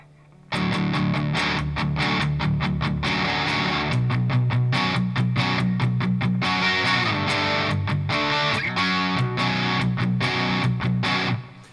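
A loud, thick high-gain electric guitar on the bridge pickup, through a Revv G120 MK III amp, chugs and strums driving distorted chords continuously after a brief quiet start, with no voices.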